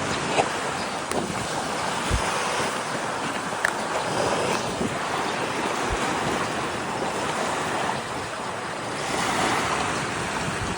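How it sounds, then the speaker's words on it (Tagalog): Loud, continuous surf of ocean waves rolling and breaking, mixed with gusty wind buffeting the microphone. "Ang sarap talaga sa tenga yung maririnig mo yung bawat hampas ng alon"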